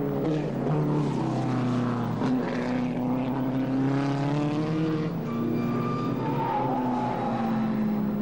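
A post-war vintage racing car's engine drones past at Silverstone, a loud sustained roar whose pitch rises and falls as it passes, with further engine tones overlapping toward the end.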